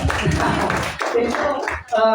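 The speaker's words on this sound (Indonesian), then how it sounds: "Tepuk tangan dong." A classroom audience claps briefly, a dense patter of hands mixed with voices talking over it.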